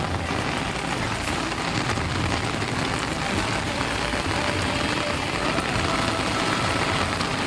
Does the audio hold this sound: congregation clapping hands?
no